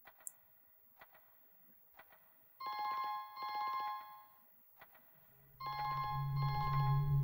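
A telephone rings in the video game Rakuen: two bursts of a bright electronic ring, each a rapid trill, preceded by soft clicks and followed by a low droning tone, with no talk.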